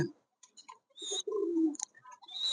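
Soft, low coos of a King pigeon sound alone in a quiet space, a couple of short calls followed by a longer rolling coo, with a few light chirps around them.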